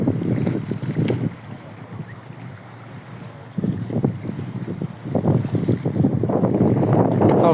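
Wind blowing at sea off Istanbul, heard as gusty buffeting and rumble against the microphone that rises and falls in waves, with a steady watery background and a faint voice or two.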